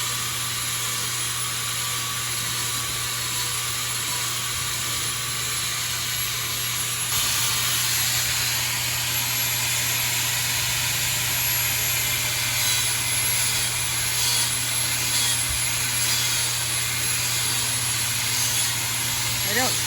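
A grinder runs with a steady high-pitched whine and hiss while trimming the hooves of a bighorn sheep, continuous and close throughout, with a voice talking under it.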